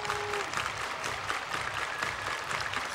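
Stadium crowd at a Sunday night baseball game applauding and cheering steadily, a dense wash of clapping and voices with no break across the moment.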